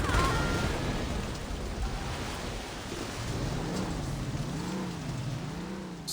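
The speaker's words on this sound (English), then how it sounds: "this rainstorm is something, alright." Rainstorm with rolling thunder in the Saints Row video game, a steady hiss of rain under a low engine hum, moderately quiet and continuous with no talk.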